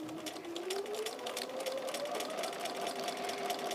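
A sewing machine runs a test seam down the side of quilting fabric at a 2.5 stitch length. Its rapid, even stitching whir is close and steady, with a rising hum as the speed picks up.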